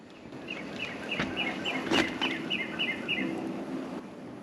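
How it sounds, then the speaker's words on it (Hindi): Small birds chirp in a snowy winter forest at a campsite, a quick repeated series of bright tweets at moderate distance, with faint rustling and a soft thump in the background. "परिंदे चहचहा रहे हैं।"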